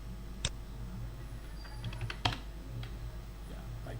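Fingers tap a computer keyboard during CAD dimension entry, producing a few faint, sparse keystrokes over a steady low hum.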